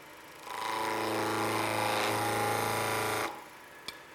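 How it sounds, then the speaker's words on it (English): Lathe turning wood with a roughing gouge, taking a square blank down to a cylinder for a door stop: a steady loud grinding, chattering cut lasting almost three seconds, then it stops, with one small knock after. "This is what's called a roughing gouge."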